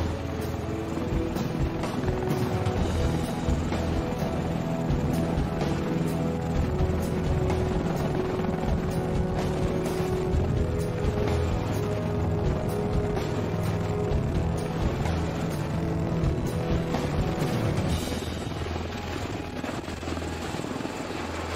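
An Osprey tiltrotor aircraft operating on the flight deck of HMS Ark Royal, giving a loud, steady rotor and engine roar with a throbbing drone that holds nearly constant throughout, close by and without speech.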